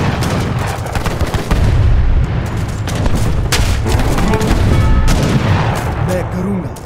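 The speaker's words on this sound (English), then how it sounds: "The wall has collapsed." A fort wall collapses amid a battle in Age of Empires 3: The Asian Dynasties, with dense, continuous booming explosions and rattling gunfire. Voices are heard under the loud barrage.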